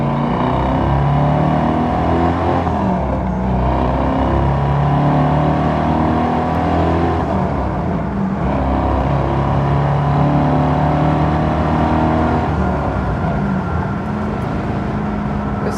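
A 1973 Camaro RS LT with a hard-charging V8 revs and accelerates, a loud, continuous throaty engine roar with rising and falling pitch, close by and free of talk.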